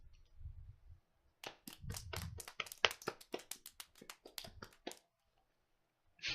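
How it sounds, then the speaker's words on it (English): Sparse, scattered clapping from a few hands in the video game Steins;Gate, brief and uneven, with quiet low thuds before and a short burst at the end. "Dr. Nakabashi enters to sparse applause."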